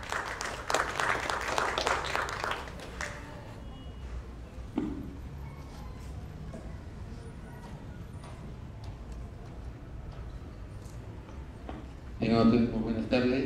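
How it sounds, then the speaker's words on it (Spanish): Audience at a medical diploma lecture applauding to welcome the speaker, a burst of clapping at the start, then quieter room noise with talk before a brief second round of claps near the end. "Un fuerte aplauso, por favor."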